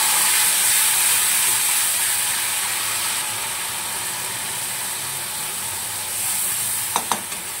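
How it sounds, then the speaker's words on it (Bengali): Ginger, cumin, green chili and coriander paste hisses steadily in hot oil for a dull cooking dish, a close, continuous sizzle that eases slightly midway, with a couple of sharp clinks near the end. "এখানে আমি তেলের মধ্যে দিয়ে দেবো আদা, জিরে, কাঁচা লঙ্কা, ধনে বাটাটা"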